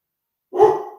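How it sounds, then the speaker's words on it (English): A single short bark from a pet dog indoors, close and fairly loud, fading quickly after a sudden onset in an otherwise quiet room. "My dog likes to bark up a storm"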